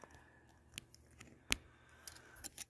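Scissors snip the paper corners of a gift box in several sharp, quiet cuts spaced irregularly over a near-silent background.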